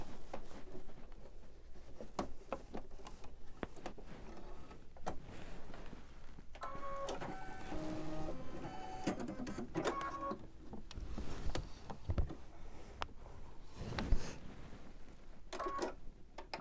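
An embroidery machine stitches a gingerbread man in brown thread, a quiet, close mechanical whir with rapid needle ticking and brief tonal motor runs, steady and continuous with no talking.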